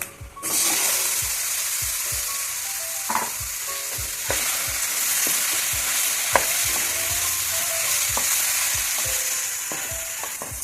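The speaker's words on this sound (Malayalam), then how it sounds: "നമുക്കിതിലേക്ക് പീച്ചിങ്ങയും തക്കാളിയും അരിഞ്ഞ് വെച്ചിരിക്കുന്നത് ചേർക്കാം." Chopped ridge gourd and tomato drop into oil where chilli powder has been frying, setting off a steady, close sizzle with repeated scraping stirs of a spoon against the pan throughout.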